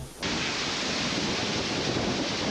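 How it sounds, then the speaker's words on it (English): Standing behind the 35-meter Misol-Ha waterfall in Chiapas, Mexico, a sudden, dense roar of falling water rushes in and holds as a loud, constant wash of noise. "The 35-meter tall Miso Ha is rather spectacular in itself, but even better is that you can actually walk behind it in true Indiana Jones fashion."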